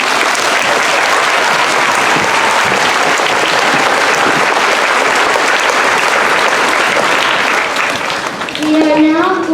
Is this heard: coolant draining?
no